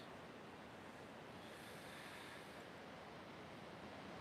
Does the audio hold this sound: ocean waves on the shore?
yes